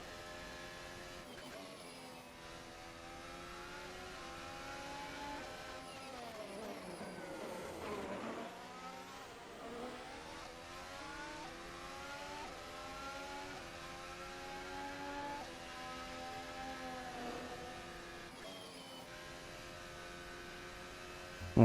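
Engine of a race car lapping a Spanish circuit in the Gran Turismo video game, continuous revving that climbs, drops under braking and climbs again through gear changes, loud and steady throughout.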